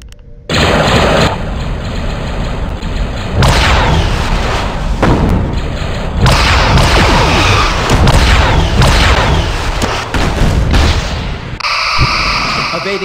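Space battle between an armored Voyager starship and Victory-class Star Destroyers: rapid bursts of weapons fire and booming torpedo explosions pile up continuously over a loud engine drone, with brief dropouts between volleys.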